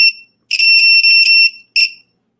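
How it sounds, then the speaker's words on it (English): A battery-powered finder device beeps loudly and shrilly, one short beep, then a long sustained stretch with slight stutters, then another short beep, close and alone. "so the thing keeps beeping"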